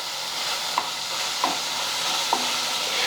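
Chopped onion and tomato fry in a pan with a constant close sizzle, broken by three evenly spaced scrapes of a spatula stirring the mixture; nobody speaks.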